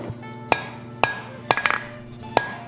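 A hammer strikes hot steel on an anvil, thinning the neck of a forged snake for a candle holder: four sharp ringing blows spaced about half a second apart, one followed by a few quick light taps.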